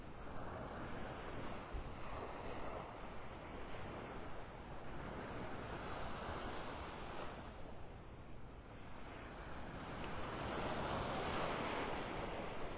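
Surf rolls steadily onto a beach in North Naples, Florida as the tide goes out, a continuous broad wash of breaking waves with wind noise buffeting the microphone, swelling slightly louder near the end.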